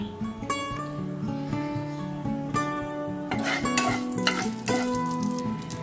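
Black mustard seeds and a dried red chilli crackle in hot oil for a vegetarian yogurt aubergine dish. Continuous sizzling with scattered pops that grow busier toward the end, over steady background music.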